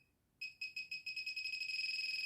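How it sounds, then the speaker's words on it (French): An Xp Mi-4 metal-detecting pinpointer beeping on its own without vibration or light, a faint high-pitched tone that starts as separate beeps and speeds into a rapid, nearly continuous pulsing. "Donc là, on n'a que le bip bip, tout seul, sans vibreur, sans lumière."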